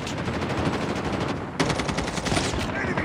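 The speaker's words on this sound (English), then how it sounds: "Friendly sentry gun deployed." A sentry gun in Call of Duty firing long, steady automatic bursts close by, a dense rattling stream that briefly pauses and resumes louder, with faint game voices underneath.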